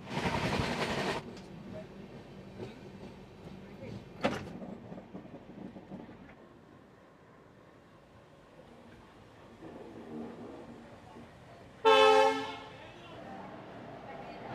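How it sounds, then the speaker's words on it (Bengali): Train pulling into platform 5 at Visakhapatnam station: a loud rumble at first, a sharp clank, then quieter rolling, and a bright horn-like blast near the end, with people talking faintly in the background. "5 নম্বর প্ল্যাটফর্মে ট্রেন ঢুকেছে আমাদের।"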